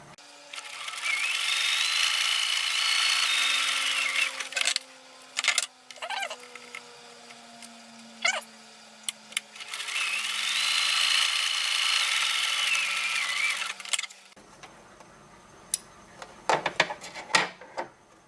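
A domestic sewing machine stitches a seam on a doll-sized backpack a quarter inch from the raw edge, running in two long steady bursts separated by clicks and fabric handling, close and fairly loud, with brief stops and rustling at the end.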